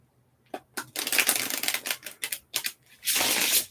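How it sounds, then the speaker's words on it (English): A deck of cards is shuffled up close in a quiet room, with quick ruffling bursts and riffles building into a longer, continuous flutter at the end, crisp and fairly loud, with no voices. "wait patiently while I shuffle the cards"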